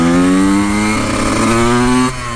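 Honda CR 125 two-stroke motocross motorcycle engine held at high revs, a loud, close, steady buzzing drone with a slight pitch step partway through and a drop near the end.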